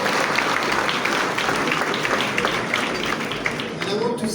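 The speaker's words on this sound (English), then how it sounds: "Big round of applause for them." An audience at the Africa Forward 2026 event in Kenya bursts into steady, dense applause, many hands clapping close and continuous for a few seconds with some voices mixed in.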